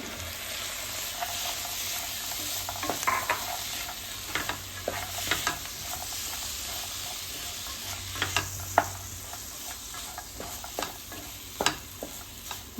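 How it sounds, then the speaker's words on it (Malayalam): Masala frying in a pan for a cauliflower, green pea and potato curry, stirred with repeated scraping clicks over a low, continuous sizzle; no voices, fairly quiet and steady. "ഇനി മസാല മൂക്കണ വരെ ഇളക്കുക. മസാല മൂത്തുണ്ട്, നമുക്ക് ഗ്രീൻ പീസ് ഇടാം."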